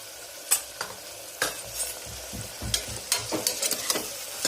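Cluster bean curry sizzles as it is tempered in hot oil, with a continuous crackle and repeated sharp stirring clinks and scrapes close by, and no voices.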